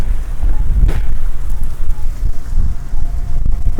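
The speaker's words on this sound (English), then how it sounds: "the wind is really picking up now" Strong gusts batter a binaural microphone outdoors at a plaza, producing a loud, close, low rumbling buffet that surges and dips throughout, with no speech.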